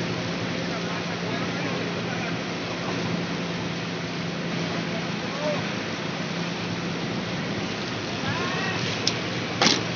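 Steady rain hisses evenly throughout on the coast at Tambakrejo Beach, Blitar, East Java, a dense wash of falling water with a few faint brief clicks near the end.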